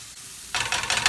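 Onion and asparagus sizzling in a pan while being stirred: a quiet lead-in gives way to a sudden, bright hiss that pulses with each stir, close and steady, without talk.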